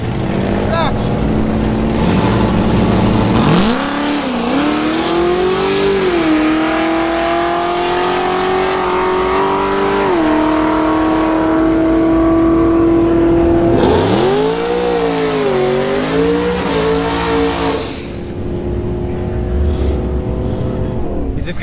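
Chevrolet C8 Corvette making a drag racing pass at LS Fest 2020, engine revving and climbing through gear changes in a loud, sustained howl before easing off, with people talking nearby.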